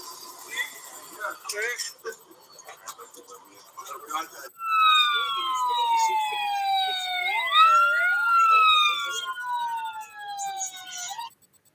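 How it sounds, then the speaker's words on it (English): A siren wails with rising and falling tones, loud and sustained for several seconds after a stretch of talking. "Air raid sirens, military in the streets."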